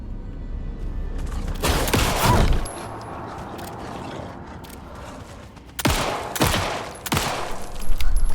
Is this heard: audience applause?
no